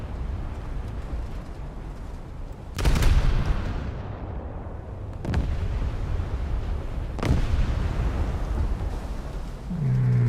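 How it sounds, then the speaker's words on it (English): In a naval battle game with British cruisers, an armor-piercing shell salvo fires as several heavy booming blasts spaced seconds apart, each followed by a rumbling tail over a constant low engine drone. "What was that AP salvo?"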